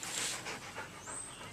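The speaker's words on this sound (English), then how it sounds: "That was my dog Raven" A dog pants close by in quick, breathy rhythmic puffs, steady and fairly soft over a short stretch, with no other voices.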